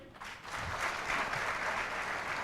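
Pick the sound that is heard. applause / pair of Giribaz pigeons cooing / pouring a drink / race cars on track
applause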